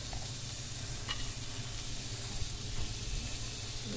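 Oil and spices sizzle hard in a pan on the stove for a small-fish curry, a constant loud frying hiss with occasional crackles and a low steady hum underneath.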